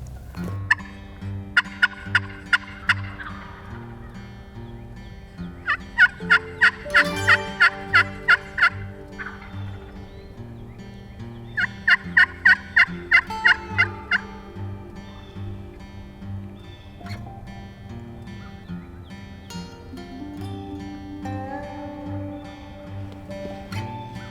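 A wild turkey gobbler gobbles in three rapid rattling bursts during an early-season hunt on public land, fairly loud at middle distance, with quiet gaps between calls and a steady low background hum.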